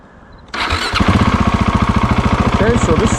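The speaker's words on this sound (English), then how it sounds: "Ignition on." A Husky 701 motorcycle engine cranks and fires, then settles into a loud, steady, rhythmic idle with quick pulsing beats, preceded by a short quiet lead-in.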